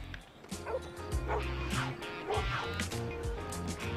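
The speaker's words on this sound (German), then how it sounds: "Bin mir nicht sicher, ob das der verschmuste Typ Hund ist." Sharp yips and barks from a dog in Lego City Undercover ring out at intervals over game music, a handful of short, high calls mixed with a brief whimper, fairly prominent in the mix.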